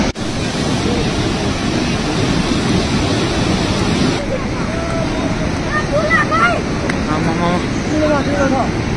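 The flooded Hewa Khola river rushes in a loud, steady roar of churning water and wind noise near the microphone, with faint bird chirps breaking through partway along.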